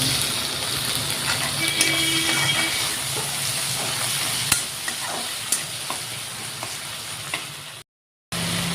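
Chopped tomato frying in a pan for a dimmed motor shuti curry, a steady close sizzle with a few light clinks and scrapes of stirring, a brief dropout near the end, no talking.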